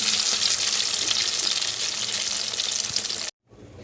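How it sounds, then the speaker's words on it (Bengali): Food frying in a pan makes a loud, dense, close hiss that holds steady for about three seconds, then cuts off abruptly and returns faintly; no talk. "চলো ভেজে নিই"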